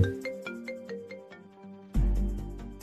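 A phone ringtone plays a bright repeating melodic pattern of chiming notes, fairly clear and close, before a louder burst of sound cuts in near the end; no talking over it.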